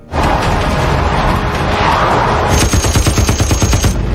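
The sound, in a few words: gunfire in a film shootout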